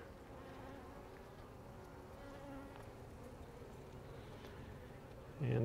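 Honey bees hum in a steady, faint drone while a beehive frame heavy with honey is lifted out for inspection, with a louder rustling bump near the end.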